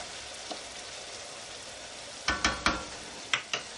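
Broth stirred into a hot pan for marjoram noodles with beef, a low steady simmering hiss with a few quick scraping stirs and spoon knocks toward the end.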